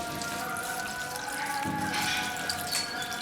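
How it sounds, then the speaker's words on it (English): Water pours steadily into a cooking pot filled with leaves, a continuous splashing, trickling wash that stays close and even in level from start to finish, with no talking. "So what I'm doing is that I'm adding some water to my leaves."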